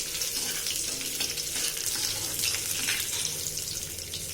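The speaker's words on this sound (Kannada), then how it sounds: "To the heated oil add the mustard and let it splatter." Mustard seeds splutter in heated oil in a pan while cooking a greens stir-fry, giving a steady, dense crackling sizzle that stays loud and close throughout, with no voices.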